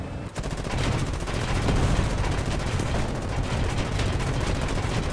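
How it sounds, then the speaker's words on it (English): Rapid tank and autocannon gunfire in War Thunder, a sustained dense barrage of loud shots with continuous rattling bursts filling the whole stretch, no voices. "I fired a few shots."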